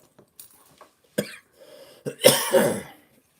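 A few short coughs and throat-clearing sounds, close by, ending in a louder, rougher cough.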